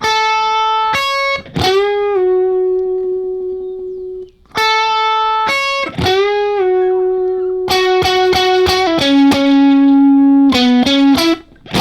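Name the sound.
guitar playing a song's solo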